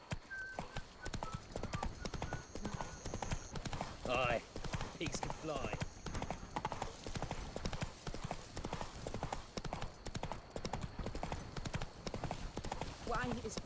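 Roach the horse gallops in The Witcher 3: Blood and Wine, a steady rapid clip-clop of hooves running throughout, with a brief whinny and a voice speaking over it.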